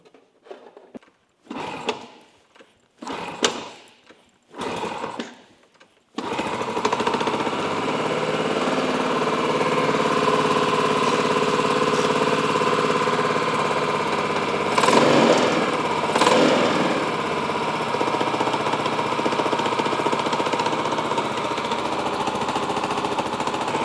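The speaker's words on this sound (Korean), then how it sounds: "리프트를 내리고 시동을 한번 걸어 보겠습니다" An underbone motorcycle engine is started after the bike is lowered off a lift. Several short cranking bursts with gaps come first, then the engine catches and settles into a steady, close idle with a brief swell midway.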